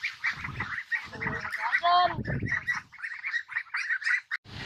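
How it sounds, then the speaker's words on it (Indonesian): Ducks quack in repeated nasal bursts, close and fairly loud, while people talk nearby. "Tah, bebek lah."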